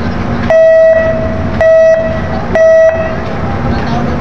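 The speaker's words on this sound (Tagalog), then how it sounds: "Cute ng busina eh." A ship's horn at a port sounds three short, loud, evenly spaced blasts over a steady low engine rumble.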